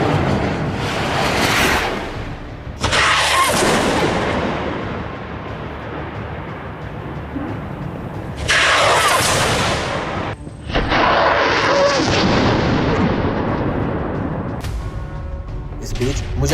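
Rocket fire and heavy explosive blasts in combat near the Netzarim junction in Gaza, with 107 mm rockets launched at a military command post: repeated loud, broadband booms and rushing roars, several long bursts, close and dominant, with no talk.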